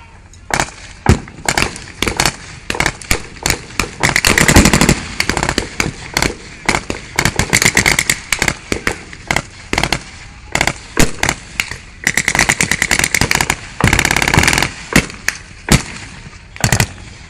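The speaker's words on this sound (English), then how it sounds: "withering fire that's been put down by the Germans" Machine gun fire crackles in a World War battle reenactment at Bovington, loud rapid bursts repeating again and again with short pauses, mixed with sharper single shots, outdoors and without talk.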